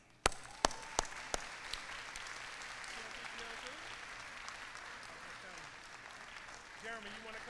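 Audience applause for an employee, starting with a few sharp, loud claps and settling into steady, soft clapping across the room that carries on to the end, with faint voices underneath.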